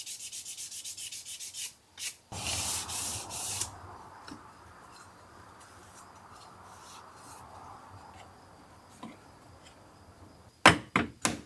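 Sanding on the body of a 1994 GMC Vandura camper van, a steady close rubbing rasp that runs on for several seconds after a louder spray-like burst, with brief sharper scrapes near the end and no talk.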